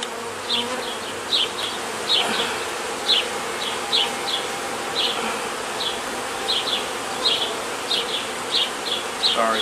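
Honeybees at a very active hive make a dense, continuous buzz up close, and brief higher chirping notes recur throughout. No one speaks.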